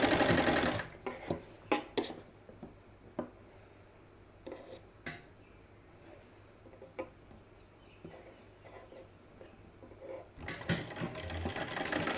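A sewing machine stitches a dhoti salwar for a one-to-two-year-old girl, its steady whirring run broken by short pauses and bursts, close and moderately quiet with faint handling noises.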